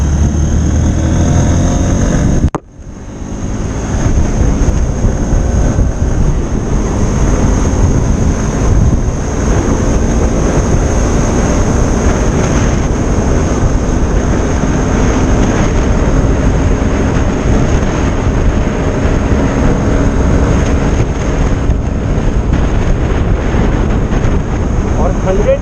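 A 2020 Honda XBlade BS6 motorcycle rides steadily with a loud, constant engine drone and heavy wind rush. A sharp cut near the start gives way to sustained road noise, with a rider's voice faintly beneath.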